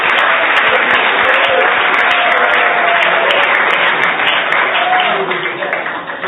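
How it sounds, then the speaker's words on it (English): An audience at a student impact project showcase applauds the Nitzavim students, with continuous thick clapping from many people that holds strong throughout and eases slightly near the end. "Let's give a round of applause to all of the Nitzavim students."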